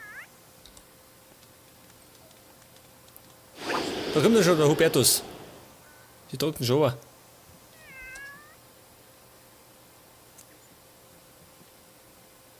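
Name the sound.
cats meowing in video game The Sims 3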